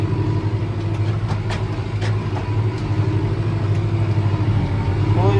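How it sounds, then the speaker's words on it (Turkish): Case JX75 tractor engine labours under load while ploughing deep through a meadow, a steady low droning rumble with harmonic hum that holds continuously, close and loud, with no talk. "O yüzden zorlanıyor traktör."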